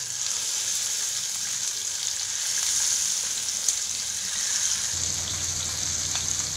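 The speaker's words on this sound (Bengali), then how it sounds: "তেল গরম হয়ে গেছে, এখন আমি ধীরে ধীরে মাছগুলোকে ভাজার জন্য দিয়ে দিলাম।" Bata fish fry in hot mustard oil in a pan, giving a steady, close hiss and sizzle that thickens into a fuller, lower crackle partway through, with no voices.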